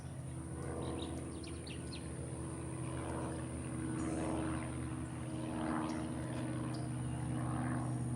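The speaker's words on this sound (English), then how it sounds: "Actually, there's a plane up there," A propeller plane drones overhead at a distance, a steady low hum that swells slightly as it passes, with faint birdsong scattered above it.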